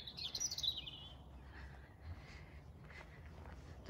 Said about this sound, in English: Can you hear the bird is chipping?